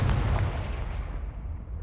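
A Confringo fire spell bursts in Hogwarts Legacy, a heavy booming blast that rolls out and fades over about two seconds.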